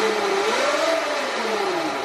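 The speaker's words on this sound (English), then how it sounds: "we can blip the throttle a little bit" An EBMX X-9000 electric bike motor whirs up and eases back as the throttle is briefly blipped, a smooth rising and falling whine close by with no talk.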